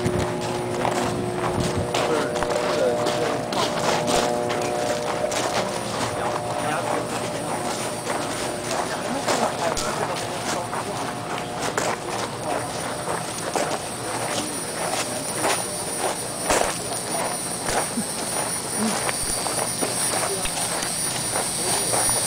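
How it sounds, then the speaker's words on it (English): A gas turbine's cool-down fan blows steadily inside a power plant after the unit has gone offline, making a loud continuous rush with a faint tonal hum and scattered clicks and clatter throughout. "You'll hear a cool down fan blowing because the unit just came offline an hour or so ago."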